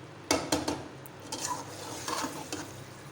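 A spoon scrapes and stirs okra and onion into chicken curry (bhindi gosht) in a pot, with several sharp close strokes over a faint sizzle and no talking.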